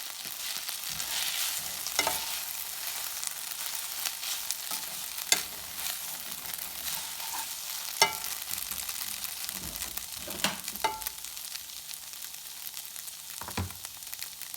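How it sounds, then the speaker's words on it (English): Yaki udon noodles in sauce sizzling and frying in a pan, with steady hiss and occasional clacks and scrapes of stirring, no voices. "Stir it around, and this step will only take about a minute because we're just allowing the sauce to heat up"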